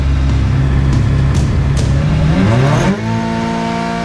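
A Subaru rallycross car sits on the start line with its engine revving hard and loud up close. The pitch climbs and then settles into a steadier, higher hum.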